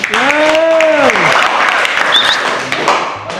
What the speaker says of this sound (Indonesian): Dari kelompok yang sudah presentasi kita beri tepuk tangan dulu.